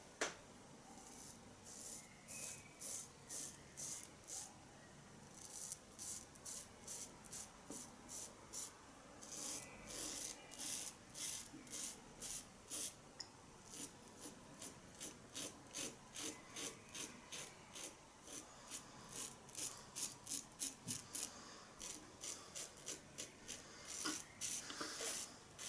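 A Merkur 39C slant bar razor scrapes across stubble in quick rhythmic strokes, a close, dry rasping that comes in bursts with short pauses between passes.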